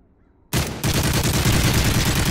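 Loud gunfire in a first-person shooter video game erupts suddenly after a brief quiet, a sharp shot followed by dense sustained rapid firing close up.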